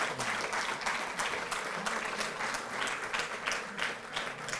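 Loud, dense applause from an audience at a Delhi government ceremony honoring Tokyo Olympics players, sustained evenly throughout with no voices rising above it.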